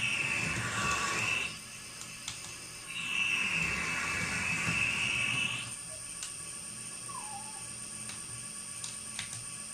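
A whining model train locomotive motor, a Bachmann E-Z Command GP-40, hums and drones in two long stretches, dropping to a quieter mechanical hum between and after, with faint ticks.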